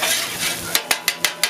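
Butter sizzling on a hot teppanyaki grill, a steady frying hiss with a sharp spatula scrape-and-tap repeating five times in quick rhythm toward the end.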